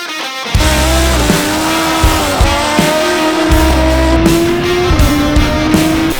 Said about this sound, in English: Doing a wheelie at 140 mile an hour.